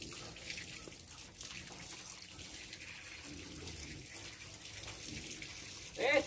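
Water runs steadily during washing in a rural cattle-birthing setting, a soft continuous splash and trickle with a brief louder gush near the end, alongside faint background voices.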